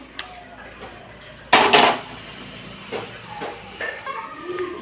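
Cooked leafy greens curry is poured from a pot into a bowl, a brief loud wet rush with clatter of cookware, followed by lighter clinks and faint background noise.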